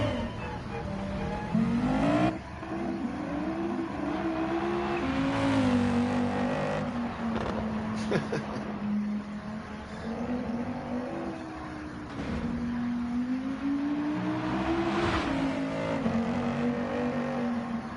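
An Audi rally car said to make about 1,000 horsepower races in Gran Turismo 7, its engine droning steadily and loud throughout, with pitch climbing and falling through gear changes and a brief lift near the start.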